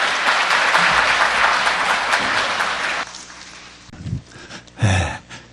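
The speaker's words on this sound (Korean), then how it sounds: "큰 박수로 맞이해 주시기 바랍니다." Audience at an integrity lecture in a hospital hall gives a dense burst of applause that stops after three seconds, followed by a few faint rustles and a short breathy sound.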